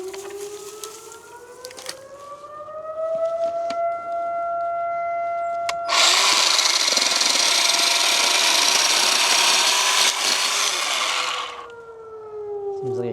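A Bauer chainsaw from Harbor Freight idles with a rising whine, then roars loud and close at full throttle for several seconds while cutting small sticks, before dropping back to idle.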